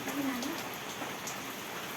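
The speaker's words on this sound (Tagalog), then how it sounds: "walang tigil ang hangin at ulan talaga" Heavy typhoon rain pours steadily in a dense, continuous hiss, with wind gusting underneath; no talking.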